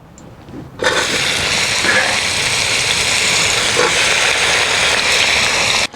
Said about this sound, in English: I'm going to fry the tomatoes.